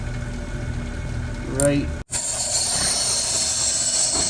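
A 5-inch Skil bench grinder rated 120 volts, 1.6 amps and 3600 RPM grinds a Kershaw knife with a broken tip. A voice speaks briefly over machine noise, then a loud, harsh grinding hiss cuts in abruptly and continues.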